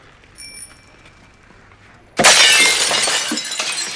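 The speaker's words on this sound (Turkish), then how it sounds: "Ha, camı kırdı." A glass window being smashed: a sudden loud crash followed by a long spray of shattering, tinkling shards, after a quiet stretch with faint high ringing tones.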